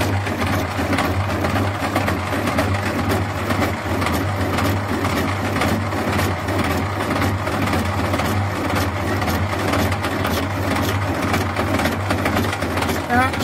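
A small lathe with a backlash-prone gearbox turns a homemade tube bender die for a JD2 bender, cut by a radius tool: a loud, steady mechanical drone with fast regular pulsing that runs unbroken from start to finish.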